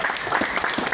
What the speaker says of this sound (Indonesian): Boleh tepuk tangan untuk Bang Ramansa.